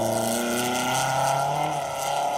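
A BMW 318 Ti Compact rally car on a stage of the 2023 Roger Albert Clark Rally gives a steady, loud, raspy engine drone with sustained harmonic tones that shift slightly in pitch as it approaches.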